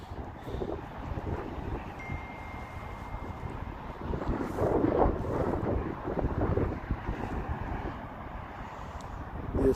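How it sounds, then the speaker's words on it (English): Wind gusting outdoors at a cricket ground in Canberra, Australia, buffeting the microphone with a steady rough rumble that swells louder midway and again at the end. "The wind keeps picking up over here."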